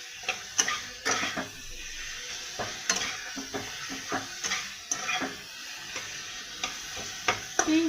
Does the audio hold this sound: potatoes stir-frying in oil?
yes